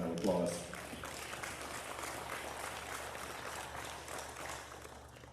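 An audience applauds the champion lightweight at a youth livestock show with a steady patter of clapping, moderately loud and slowly fading, while a voice speaks briefly over it at the start.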